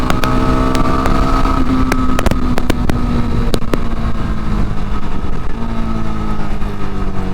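Yezdi Scrambler motorcycle engine running loud and steady up close, its rough exhaust note holding a continuous drone with slight shifts in pitch and no voices.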